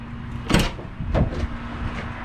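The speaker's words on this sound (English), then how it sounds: "Now when you open the cab door" A heavy equipment cab door opens with a latch click and a creaking swing, followed by a second softer thump, close by over a steady low hum.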